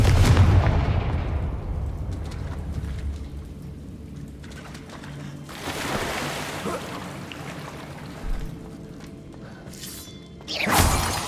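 In the Hogwarts Legacy video game, a Confringo fire spell detonates in a muffled blast, followed by lighter crackling and a second burst near the end, moderately loud with no voices over it.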